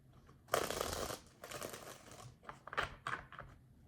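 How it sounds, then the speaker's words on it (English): Tarot cards are shuffled at a reading table in quick soft riffling bursts, a loud rustle followed by several shorter crisp flicks, close and quiet with no talking. "I'll do 1 shuffle and do that"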